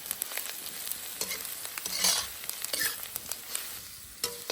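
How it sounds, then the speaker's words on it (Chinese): Dried chilies, ginger and garlic frying in hot oil in a wok, a close, bright sizzle that swells midway, punctuated by quick stirring clinks, with no voices. "稍微炸一下就香了。 干辣椒、姜蒜。"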